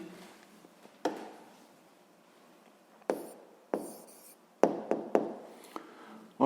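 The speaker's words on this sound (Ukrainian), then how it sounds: "записуємо відповідь, пишемо відповідь" Pen scratching out an answer on paper during a 7th-grade physics homework exercise, with quiet stretches of writing strokes broken by several sharp taps and knocks; no one talks.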